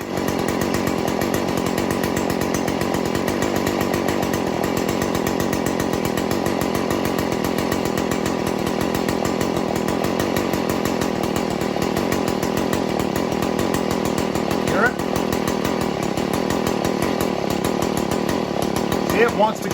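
A Stihl FS 40c weed eater's two-stroke engine idles with its carburetor set too rich, a steady buzzing drone that runs close and loud throughout with slight unevenness and no talk.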